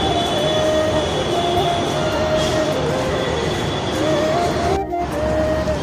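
A metro train at an underground subway station near a city centre mall, a loud continuous rumble with squealing wheel tones and a brief sharp burst near the end, heard close and without talk.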